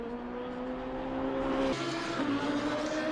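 Race car engines drone steadily on track in Assetto Corsa Competizione, a GT endurance sim-racing event with a BMW among the field, sustained harmonic engine tones shifting pitch as cars change gear, moderately loud without talk.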